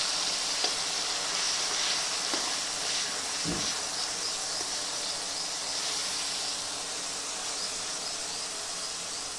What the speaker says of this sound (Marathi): तो आता तेलामध्ये चांगला फ्राय होऊ द्यायचा।